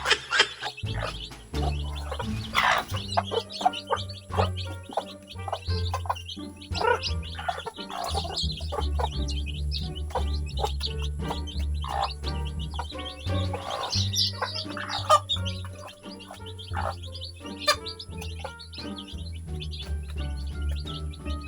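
Chickens cluck and birds chirp continuously nearby, with busy outdoor background noise throughout.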